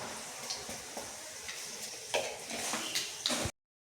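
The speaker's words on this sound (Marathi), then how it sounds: "आता मस्त थोडी मोहरी टाकून घ्यायची अशी." Garlic and mustard seeds sizzle in hot oil in a kadhai for sweet-sour varan. A soft, steady frying hiss is dotted with small ticks and pops, then cuts off abruptly near the end.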